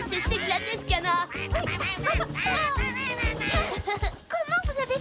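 Canardo, a cartoon duck, quacks excitedly in a rapid, high, wobbly run of loud squawks, mixed with other cartoon voices and lively background music.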